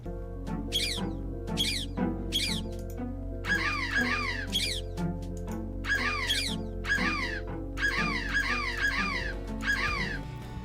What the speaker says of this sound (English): So when you click on the birds now, they make a squawking sound.